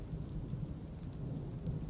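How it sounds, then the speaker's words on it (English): Stormy weather in the Dwarf Fortress video game: a steady low rumble of rain and distant thunder rolls on without a break, soft and even throughout, with no voices. "There seems to be a storm above."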